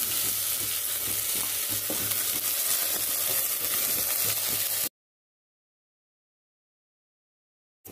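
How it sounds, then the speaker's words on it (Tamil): Okra fries in hot oil in a pan with a constant close sizzle and repeated stirring scrapes for about five seconds, then the sound cuts to silence. No voices are heard. "வெண்டைக்காய் அந்த ஆயில்லையே நல்லா குக் ஆகட்டும்"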